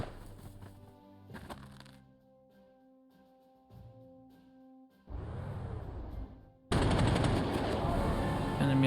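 In the Panzer Corps 2 video game, a tank attacks infantry: after quieter tonal game sounds, a swelling burst of rumble gives way to loud, dense gunfire that rattles on steadily to the end.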